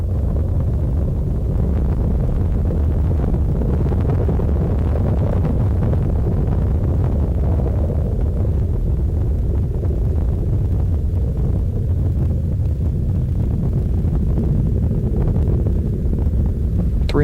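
Space Shuttle Discovery's engines roar during launch as a continuous, heavy low rumble, dense and unbroken at a constant high level for the whole stretch, heard from a distance with no voices.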